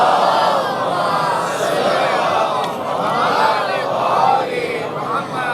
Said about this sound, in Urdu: ذرا اچھا سا نعرہ لگائیے